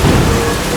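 A rain and thunder sound effect gives a brief, loud burst of dense, steady rain hiss over a low rumble of thunder.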